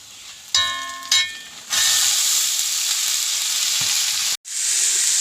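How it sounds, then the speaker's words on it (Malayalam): Chopped green beans dropped into hot oil with shallots, curry leaves, chilli powder and turmeric for a South Indian bean stir-fry, bursting into a loud, steady sizzle after a couple of brief clinks, with a short break near the end. "നുറുക്കി വെച്ച ബീൻസ് ഇടുന്നു"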